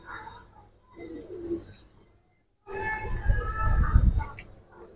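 Silver pigeons cooing close by in bursts, soft throaty coos with a brief silence midway, then a louder, fuller cooing run toward the end.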